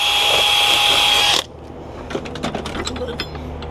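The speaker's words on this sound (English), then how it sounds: "we need a good sized drill bit here." A power drill with a good sized bit runs at a high steady whine through a brace for a bike rack, then stops after about a second and a half, followed by ratcheting clicks and metallic handling.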